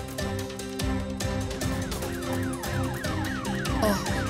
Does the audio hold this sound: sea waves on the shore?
no